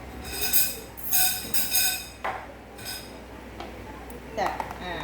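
Dishes and utensils clink while food is arranged onto a plate in a home kitchen, making a few bright clattering knocks in the first half and lighter taps later, with someone talking throughout.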